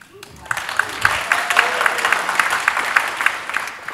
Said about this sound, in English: Your applause and snaps are correct.